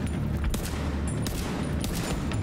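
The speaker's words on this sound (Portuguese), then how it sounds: "Um tiro de escopeta costuma abalar a pessoa, né?" Shotgun blasts ring out in the video game Tom Clancy's The Division 2, a few sharp reports in quick succession against a dense, noisy background of in-game combat.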